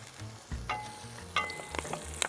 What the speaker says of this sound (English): Garlic is frying nicely, sweating frying. Now adding the tropea onion on it